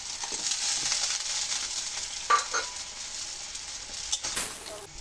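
Garlic and onion paste frying in oil with a little water in a wok while cooking a singi fish curry, a steady close sizzle with brief stirring scrapes and a louder hiss near the end.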